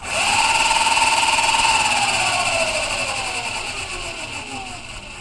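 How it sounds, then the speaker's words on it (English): A 2015 Super Turbo 1200 watt electric scooter motor revs up with a loud, high whining hum that rises and then slowly winds down in pitch, heard up close. "You can see and hear that extra power. Very torquey, a lot faster than the 1000 watt."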